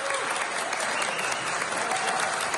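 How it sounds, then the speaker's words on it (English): Sustained dense applause from a crowd at a council meeting, a loud, even wash of clapping that fills the whole stretch with no voices over it. "They were met with applause from the crowd."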